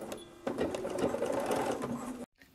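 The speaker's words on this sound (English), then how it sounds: "So I'm going to show you over at the sewing machine." A sewing machine runs steadily, edge stitching elastic on a pair of boxers, its motor whirring for about two seconds before stopping abruptly, close and moderately quiet with no talk.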